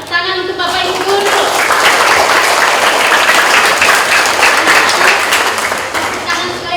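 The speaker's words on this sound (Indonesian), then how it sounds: "Tepuk tangan untuk Bapak Ibu guru." Dense, sustained applause from an audience at an Indonesian elementary school farewell and graduation ceremony, honouring the teachers. The clapping continues throughout, with a voice over a loudspeaker at the start and again near the end.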